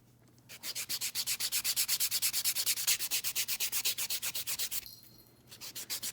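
A buffing block and file work over fingernails in fast, steady back-and-forth strokes, a rhythmic scratchy rubbing that runs for several seconds, breaks off briefly, then starts up again, close and alone.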